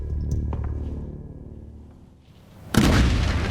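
A water heater rigged as a cannon booms suddenly and loudly after a fading rumble, and the burst of noise carries on into a rushing blast.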